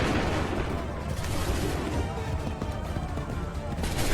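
Musket volley in Assassin's Creed 3, a dense continuous crackle of gunfire with low booms sustained throughout, loud and close, with shouted voices mixed in.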